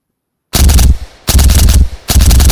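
Custom weapon fire in the DayZ mod: three loud, close bursts of rapid automatic gunfire follow a short silence, each burst cut off abruptly, with no voices.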